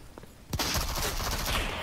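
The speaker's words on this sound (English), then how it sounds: "Oh, I'm getting shot at." Gunfire in the shooter video game Rogue Company, a sudden burst of rapid, dense shots that starts after a brief quiet moment and keeps going loudly to the end.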